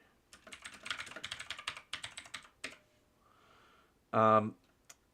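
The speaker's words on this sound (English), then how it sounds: "someone pecking away at an old typewriter" An old typewriter pecked at in quick, irregular bursts of clattering keystrokes for a couple of seconds. A pause follows, then a short, loud electronic tone.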